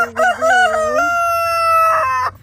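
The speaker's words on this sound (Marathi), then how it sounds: "सगळे शेतावरचे प्राणी एक इकोसिस्टमच आहे अगदी ह्या कोंबड्या पण" A rooster crows loudly and close by on a homestead farm in the United States, one long rising and falling call that fades out, with faint clucking from other hens around it.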